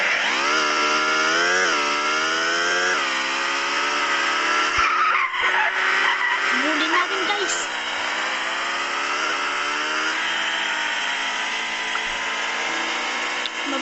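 Motorcycle ridden in the video game Los Angeles Crimes, a steady high buzzing engine that revs and shifts pitch continuously, with tire-skid-like scraping in the middle, loud and close throughout with no talk.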